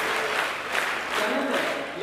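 An audience claps continuously at a school anniversary ceremony, a dense, steady wash of applause from a crowd with a few voices mixed in.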